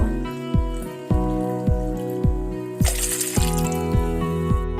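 Water is poured into a pot to make jelly, in several separate bursts, each pour ringing with a rising resonant tone as the vessel fills, close up.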